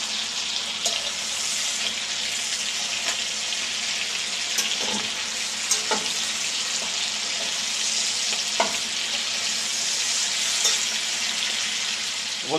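Chicken pieces searing skin-side down in a pan for an old-style poultry fricassee, a steady loud sizzle and crackle throughout with occasional sharp pops and light utensil clicks, no talking.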